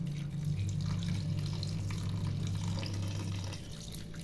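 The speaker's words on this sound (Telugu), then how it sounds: "నేనైతే వాటర్ అయితే వేస్తున్నా" Water runs steadily into a cooking pot while noodles are being prepared, a continuous tap-like gush with a low rumble that lasts several seconds and then eases slightly near the end; no talking.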